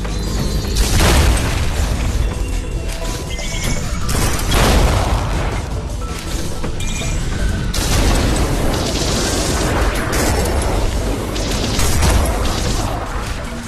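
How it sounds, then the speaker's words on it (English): Grenade launcher explosions in the video game Ultrakill: loud, repeated booming blasts and crashing bursts that follow one another closely across the whole stretch, with no talking. "Ultrakill altered the grenade launcher mechanics with devastating results."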